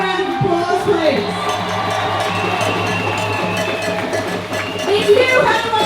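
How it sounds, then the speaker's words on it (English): A crowd at a street protest march in Sydney cheers and whoops continuously, a loud and sustained mass of voices with a cowbell-like clank and scattered shouts throughout. "Can I have a round of applause, please?"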